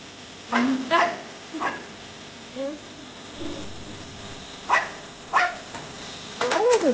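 A house dog barks in short separate bursts, a few yips and whimpers spaced over several seconds with a quick flurry at the end, raising the alarm at a Russell's viper entering the home.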